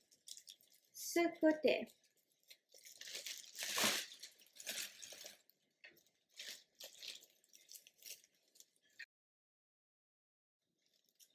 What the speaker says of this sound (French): c'est mon grand sac de poubelle, comme ça, et je dois couper